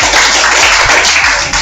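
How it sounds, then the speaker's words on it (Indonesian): A classroom of students applauding together, a loud, dense, steady wash of clapping that fills the space from start to finish with no talking. "Sekali lagi tepuk tangan dulu."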